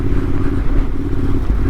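Steady, close engine drone and wind rush from a Yamaha T7 motorcycle cruising at about 30, a continuous dense roar without speech.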